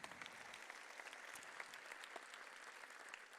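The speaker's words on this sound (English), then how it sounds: "Let's give a big round of applause" Steady applause from a crowd of children and families at an elementary school 5th grade promotion ceremony, many hands clapping continuously at moderate volume for a few seconds.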